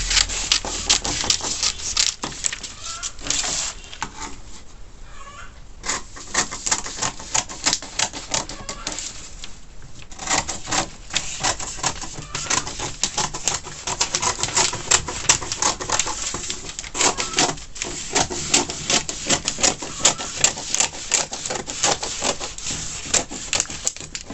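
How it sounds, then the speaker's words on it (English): Scissors cut out a fabric sewing pattern for an off-shoulder top, a close, rapid stream of crisp snipping and rustling clicks that runs almost continuously with only brief lulls. "So we're going to cut the pattern out."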